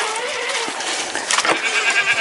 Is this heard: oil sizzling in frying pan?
no